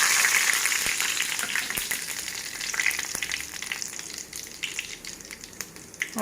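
Whole spices (cardamom, cinnamon, cloves, dried red chillies and cumin) crackle and sizzle in hot oil on a low flame for mushroom curry, a steady dense frying hiss scattered with sharp pops throughout, close and fairly loud, with no voices.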